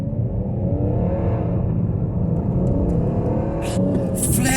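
A remapped BMW 325d diesel pulls hard on a test drive, its engine a loud, steady low rumble and drone heard from inside the car, with a faint higher whir and a few light rattles toward the end.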